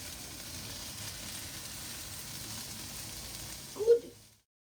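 Homemade tofu fries in a pan after being flipped, giving a soft steady sizzle with a brief louder crackle near the end before it cuts off.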